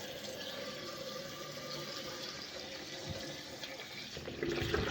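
Water runs steadily from a tap into a container at a public filling point, a continuous rushing splash that holds constant and grows slightly louder near the end as the vessel fills.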